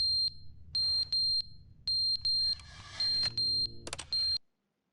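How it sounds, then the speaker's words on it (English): A smoke alarm beeps in sharp, high, piercing chirps, about a dozen in an irregular run, loud and close, with a brief burst of noise in the middle before it cuts off. "Dude, the smoke alarm's going off."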